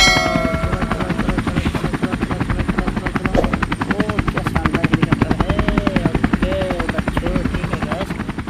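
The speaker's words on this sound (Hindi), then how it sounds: "क्या शानदार हेलीकॉप्टर है" Cartoon helicopter with a fast, steady rotor chop and engine whine running continuously and loud, with light dings and a child-oriented voice speaking over it.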